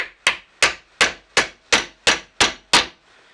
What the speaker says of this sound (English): I'm just going to put this little wood block on top and tap it in that way.